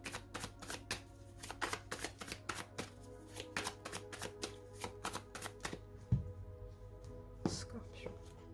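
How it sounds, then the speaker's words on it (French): Tarot cards are shuffled with rapid, crisp riffling flicks in a steady run, followed by a soft card laid down and another light tap, close by in a quiet room. "On pose une carte du tarot."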